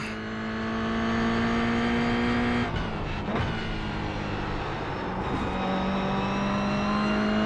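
Toyota GR86 race car engine at Daytona, a steady close drone with a sustained pitch that drops briefly around a shift, then carries on under load, no talking.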